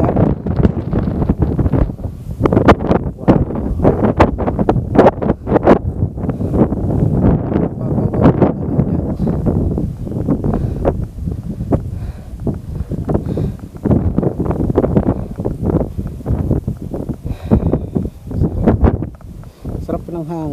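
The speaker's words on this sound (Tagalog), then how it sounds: "Sarap ng hangin." Wind buffets the microphone at a hilltop viewpoint near a chapel, a loud, gusty low rumble that surges and fades throughout while people talk over it.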